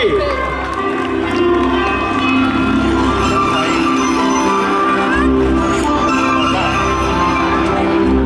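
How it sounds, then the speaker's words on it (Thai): A large audience claps and cheers for 39 award recipients on stage at an evening ceremony, dense continuous applause mixed with crowd noise and a voice speaking over it throughout. "ขอเสียงปรบมือดังครับให้กับคนดีสีสวนทั้ง 39 ท่านบนเวทีในค่ำคืนนี้"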